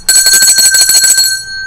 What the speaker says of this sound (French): On met ba coup cloche là.